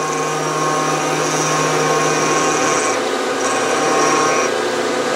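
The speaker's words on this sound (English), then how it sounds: "and milling an angle on there." A milling machine with a 60-degree cutter cuts an angle on a brass rod, a loud continuous whirring drone with high metallic tones that dip briefly as the cutter passes back and forth.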